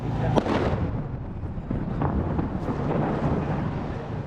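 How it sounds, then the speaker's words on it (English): Muffled booms and rumbling blasts of gunfire and explosions roll in from a distance over a constant low roar, with a sharper crack near the start, on the outskirts of Khan Yunis in southern Gaza. "The sound of gunfire and explosions in the distance, some not so distant."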